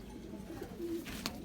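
A pigeon is let go by hand and takes to the air, with soft cooing and a brief flutter of wings at close range against steady background noise.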